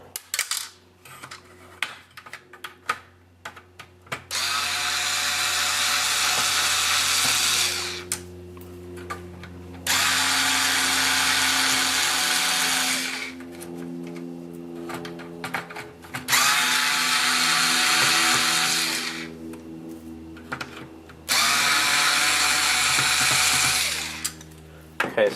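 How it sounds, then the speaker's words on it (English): A power driver backs screws out of a Nintendo NES console in four long whirring bursts of several seconds each, with small clicks and handling noises in the pauses between them. "Okay, so I've now removed these 6 screws."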